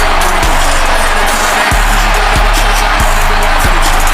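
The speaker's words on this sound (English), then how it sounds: "you hear the crowd, the ovation, the eruption, the roar for Damien Jones" A wrestling crowd roars in a loud, continuous ovation for a wrestler's entrance at the ICW No Way Back pay-per-view event, with heavy rhythmic thumps pulsing steadily beneath the sustained noise.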